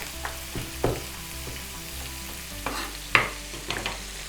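Onions and chilies frying in a pan for tuna pasta, a continuous close sizzle with repeated scraping stirs and utensil knocks.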